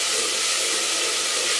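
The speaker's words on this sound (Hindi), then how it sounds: "अब मैं इसमें टमाटर डालूँगी।" Chopped tomatoes dropped into a pan of frying onions, giving a loud, steady, broadband sizzle and hiss throughout, close up, with no voices.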